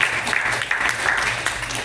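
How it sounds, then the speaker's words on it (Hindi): Loud applause from an audience at a talent show for performers with disabilities, a dense steady clatter of many hands clapping close by. "और एक बार जोरदार तालियां।"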